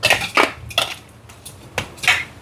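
A spoon clinks against a bowl while stirring a paneer marinade with added lemon, a few sharp metallic knocks and scrapes in an uneven rhythm, close and clear with no talking.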